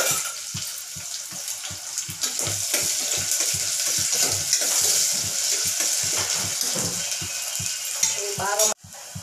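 Onions with green chillies fry in oil in a pot, a steady, loud sizzle with the rhythmic scrape of a spoon stirring throughout, alone, ending in a brief clatter.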